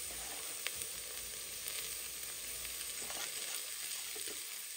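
Mutton curry spices with cumin powder sizzle and fry in a pan, giving a continuous crackling hiss with occasional soft stirring scrapes.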